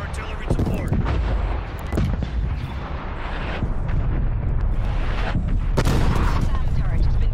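Artillery fire in Call of Duty Black Ops Cold War, a dense barrage of booming explosions and rumbling impacts sustained throughout, loud and heavy with sharp blasts standing out.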